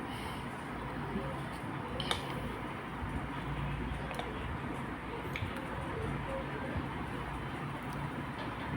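Sautéed ingredients being mixed into kuzhi paniyaram batter produce thick, wet squishing and slapping sounds that run continuously and fairly faintly, with a few sharp clicks of the spoon against the bowl.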